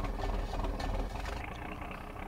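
Fiatagri 460/560 tractor engine idling in Farming Simulator 19, a steady low rumble with a continuous mechanical drone that eases slightly in level partway through.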